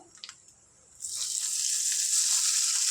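Hot popu tempering poured into a turmeric-spiced chutney with the gas switched off: a short quiet stretch with a few faint clicks, then a sudden loud, bright sizzle that bursts in and keeps hissing steadily to the end.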